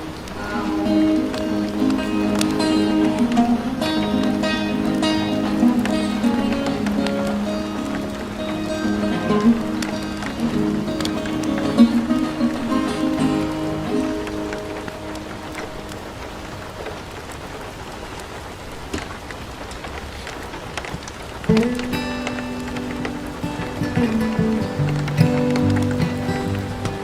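Steady rain falls throughout, a soft continuous patter beneath a man singing over music, set indoors by a crackling fireplace.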